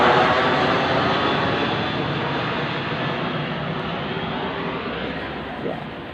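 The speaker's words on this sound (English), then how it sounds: "These planes are just going over my roof continuously." Airplanes pass over a house at night, a loud, steady broadband engine roar that fills the whole stretch and slowly fades.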